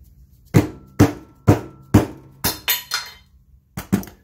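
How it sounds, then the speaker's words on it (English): A rubber mallet knocking an engine oil pump on the edge of a workbench during a Pontiac V8 rebuild, about nine hard, close thunks, evenly spaced, then a short pause and two quick final blows. "It's a rubber mallet, and I have it on the edge of the workbench."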